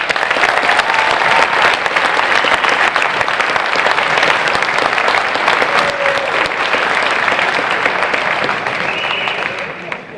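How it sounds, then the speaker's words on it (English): An audience claps for hall of fame inductees, a dense and loud ovation that holds steady before it thins out near the end. "A nice round of applause for all of our inductees."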